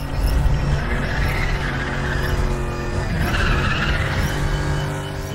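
A BMW Z4 GT3 race car drifts in Need for Speed The Run, its tires skidding and squealing in a steady, loud screech over the roaring engine, with no talking.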